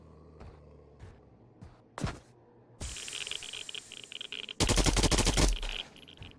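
Gunfire in a zombie shooter video game: a few sharp single shots, then a sustained automatic burst followed by a louder, denser volley, close and loud, no speech.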